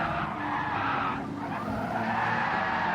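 A race car in Gran Turismo 7 skidding with loud, sustained tyre squeal over roaring engine noise after being rammed by another car, close and continuous throughout.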